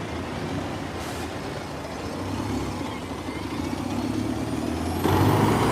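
A Lincolnshire bus arriving at Lincoln Central bus station idles and rumbles closer, with a sharp hiss of air brakes near the end over steady engine noise.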